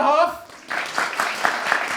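A small comedy-night audience whoops and cheers on cue, a burst of scattered claps and shouts starting after a brief spoken instruction and continuing loosely to the end.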